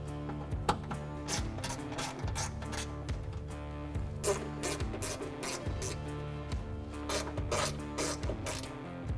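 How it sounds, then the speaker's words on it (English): A hand ratchet fitted with a 7/32 socket backs out speaker screws inside a 1997-2003 Ford F150, giving rapid, close metallic clicking in repeated bursts, with short pauses between strokes. "I'm going to grab a ratchet with a 7/32 socket on it, and we're going to remove these 4 screws on the front"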